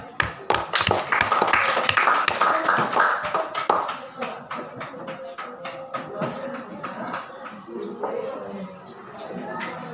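A group of people clap their hands in a classroom speaking exercise, a loud, dense run of claps that thins into scattered taps and slower claps as it fades, with voices murmuring beneath.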